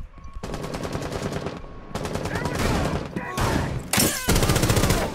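Rapid bursts of automatic gunfire from a Rainbow Six Siege match rattle out in several separate volleys, loud and close, with brief pauses between them and voices talking over the action.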